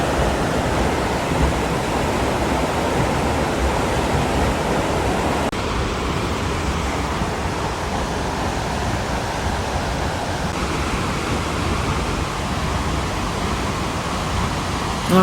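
A waterfall on Minnesota's North Shore flows out and cascades down, giving a loud, constant, rushing roar of water that lasts the whole time with no break.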